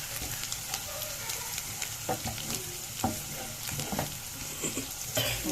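Onions and minced garlic frying in a pan for Alexandrian-style fava beans, a steady close sizzle broken by several scraping stirs and light clinks of a utensil against the pan, with no talking.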